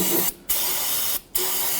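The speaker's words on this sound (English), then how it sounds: "go ahead and spray it down with some solvent" Solvent sprays from an aerosol can onto brake parts of a 2006-2010 Hummer H3 during a brake hose job, in three loud, close hissing bursts with brief pauses between, and no talking.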